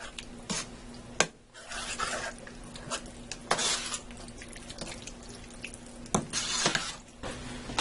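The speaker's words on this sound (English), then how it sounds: "I'm going to mix this in with the sauce and the cheese and a hamburger. Stir this up good." Boiled elbow macaroni, a full one-pound box, being stirred into sauce, cheese and hamburger in a pot, giving wet squelching and clacking utensil sounds with a steady faint hum underneath, moderately close.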